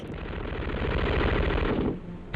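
An MG-42 machine gun fires a sustained, extremely rapid burst for about two seconds, loud and continuous, then cuts off abruptly.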